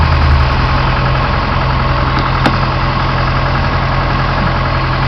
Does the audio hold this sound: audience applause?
no